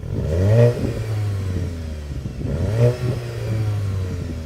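Two hot hatchback engines with sports exhausts, from a VW Golf GTI, Ford Focus ST and Skoda Octavia vRS, rev hard in turn, each rising to a brief peak and settling into a steady, throaty idle, with a sporty exhaust rasp.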